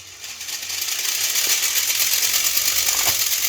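A VEX robot's flywheel launcher spins up with a whirring hum that rises and then holds steady, with a couple of brief knocks as it fires.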